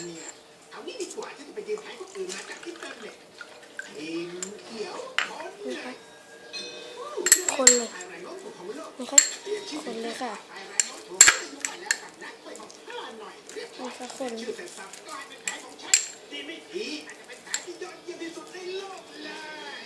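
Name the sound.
stirring edible chewing-gum slime in a bowl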